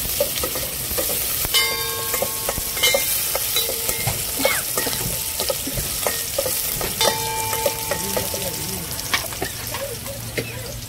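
Chopped vegetables, including green chillies, roast and sizzle in a pan for vegetable soup, with a steady frying hiss throughout. A utensil stirs and scrapes in clinking, irregular bursts.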